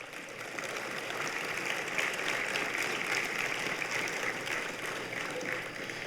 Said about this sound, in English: So let's give a round of applause for Vance Palm.